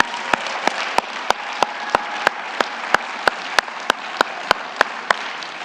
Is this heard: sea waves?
no